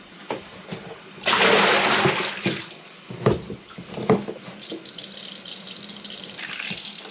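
Running warm tap water splashes and gushes as exposed carbon tissue is rinsed beneath it, with a loud burst of flow followed by intermittent splashing and dripping nearby.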